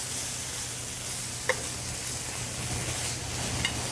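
Harissa prawns frying in a pan, a steady close sizzle with a couple of faint clinks from stirring, no voices.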